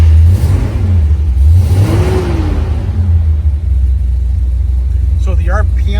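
A 1971 Chevrolet Corvette with an LS5 454 V8 cranks over and fires, its low rumble swelling as the engine revs once, then settling into a steady idle while a voice speaks briefly near the end.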